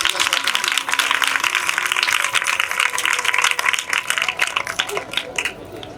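Loud, dense applause and clapping from a large audience at a Ram Katha religious discourse gathering, sustained throughout and tapering slightly toward the end, with some voices mixed in.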